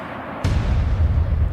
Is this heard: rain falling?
no